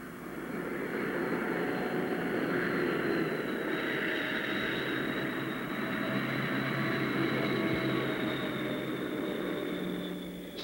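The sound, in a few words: flying boat aircraft engines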